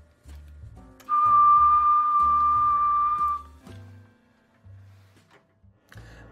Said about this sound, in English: Next step, we're going to key the microphone and whistle into it.